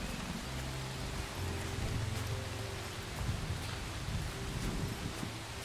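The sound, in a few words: rain in the video game Among Trees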